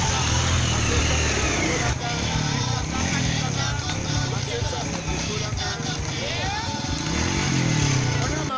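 Motorcycles travel along a rough rural road in a remote village area, engines revving and passing at close range, loud and continuous with some surrounding traffic noise.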